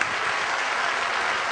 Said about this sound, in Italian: accogliamo con un applauso Agostino Ferrante